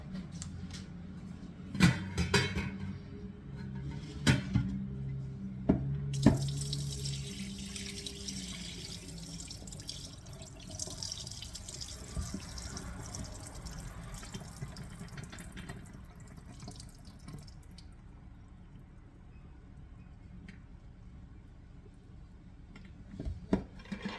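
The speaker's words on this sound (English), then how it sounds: "drain but do not rinse the beans and set them to a side" Liquid from canned black beans drains out with a watery splashing pour, preceded by a few sharp knocks and clatters, the flow steady and close before fading toward quiet.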